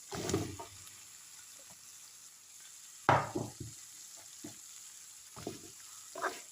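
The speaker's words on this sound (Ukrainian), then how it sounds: "Так, додаю кабачок." Sliced zucchini is dropped into a hot frying pan of vegetable stew, giving sharp bursts of sizzling at the start and again midway, with quieter frying and stirring scrapes in between and no talk.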